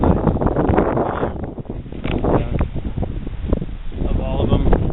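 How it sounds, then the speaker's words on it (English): Strong wind buffets the microphone outdoors on a cattle farm, a loud continuous roar with gusty surges throughout, while a person talks over it. "it's going to be a little windy out here"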